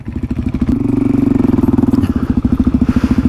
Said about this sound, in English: Here goes Riley on his KLR. Unfortunately he's got quite slick tyres and a very big bike